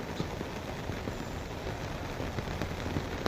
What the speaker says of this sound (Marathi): मस्त पाऊस सुरू झालाय